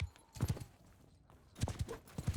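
Horse hooves in a video game clop in two short bursts of close, rhythmic thuds separated by a quiet gap, with no voices over them.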